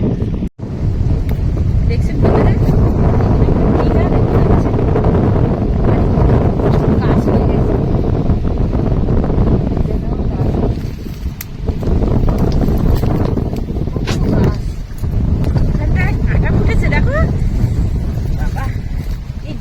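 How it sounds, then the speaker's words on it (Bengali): A strong, cold wind blows across a river in the Sundarbans, heard from aboard a boat. It roars and buffets loudly against the microphone without letup, with only brief dips, and voices at times are mixed in. "হাওয়ার আওয়াজ শুনতে পাচ্ছেন হ্যাঁ"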